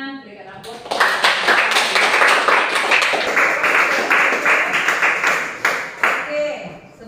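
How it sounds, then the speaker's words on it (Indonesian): Sustained clapping fills a classroom after a student presentation, a dense burst of many hands lasting several seconds, with a voice before and after. "Berikan tepuk tangan, berikan aplaus."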